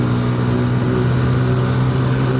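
A 125cc motorcycle engine, its carburettor freshly cleaned, drones loud and steady throughout, holding a constant revving tone without pauses.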